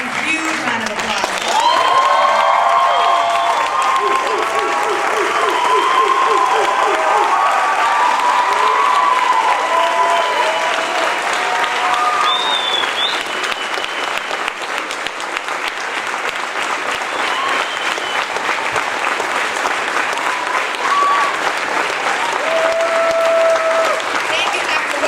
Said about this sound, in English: Dr. Cornel West, one huge round of applause.